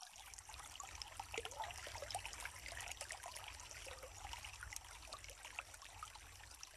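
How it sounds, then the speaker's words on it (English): Water trickles and flows faintly and steadily in the background outdoors in Bakelalan. There is no speech over the quiet stream. "As you're hearing the background water"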